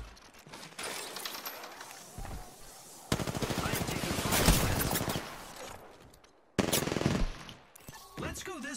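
Video-game gunfire: rapid automatic bursts separated by short gaps, the loudest and longest volley in the middle followed by another burst near the end, close and loud.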